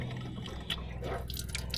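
A Casita camper's water pump pushes water through the lines, a steady close hiss and trickle of running water with faint drips, no talking.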